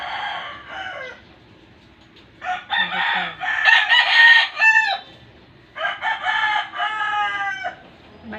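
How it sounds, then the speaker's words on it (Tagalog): Roosters in a large backyard flock of chickens crow loudly and repeatedly, two or three long drawn-out calls from nearby with short pauses between them, over a low background hum and no speech. "Maingay yung mga manok guys"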